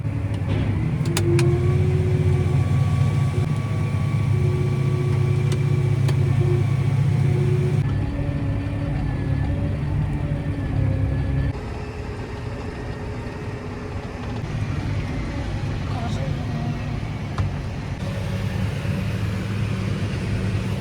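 Combine harvester unloading corn into a tractor trailer in a harvest field, a steady loud machine drone and rumble inside the cab with shifting tones as the auger runs, then a lower hum as the engine settles.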